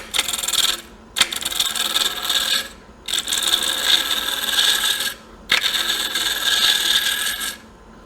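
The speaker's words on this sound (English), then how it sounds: "now that we've got this on the lathe, we're going to go ahead and bring this down out here" A tool cuts into a wooden natural-edge ring holder bowl spinning on a lathe, making a hissing, rasping scrape in three sustained passes with brief pauses between them, close and fairly loud, with no talk.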